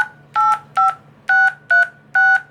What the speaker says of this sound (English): That is a DTMF tone.